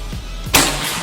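A PCP Predator air rifle with an upgraded slug barrel fires a slug in a single sharp, loud crack at mid-clip, with a brief bright burst that decays quickly.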